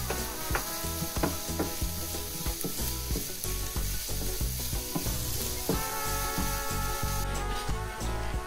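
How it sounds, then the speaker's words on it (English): Celery and minced garlic sauté in a pan for salmon patties, with a bright steady sizzle broken by repeated clacking stirs of a utensil against the pan, close and loud, with no speech. "Then add minced garlic and let it simmer for another minute"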